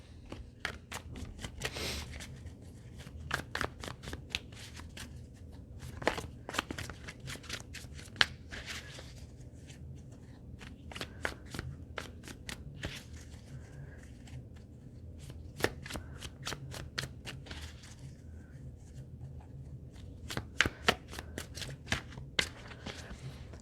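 A tarot card deck is shuffled by hand over and over, with soft riffling and snapping card flicks in steady irregular bursts, close and fairly quiet, with no talking.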